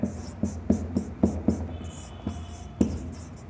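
Chalk tapping and scraping across a classroom board while a maths problem on probability is written out: a run of sharp, close strokes and taps in an irregular rhythm, with brief gaps and no speech over it.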